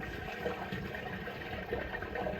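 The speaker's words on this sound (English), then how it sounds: "Flush away, Rick." A toilet flushes during drain tracing with dye, a steady broadband rush of water continuing throughout with no pause, heard at moderate distance.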